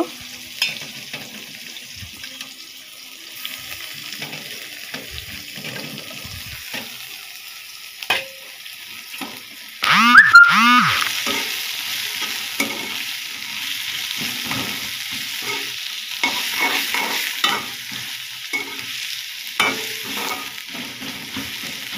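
Onions frying in a pan and stirred with a utensil, a steady close sizzle with scraping strokes that grows louder and busier partway through as more onion goes in.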